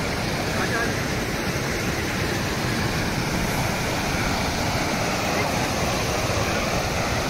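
Steady rush of the Shali Ganga river flowing in a snowy valley, a broad continuous roar of water that holds constant throughout without breaks.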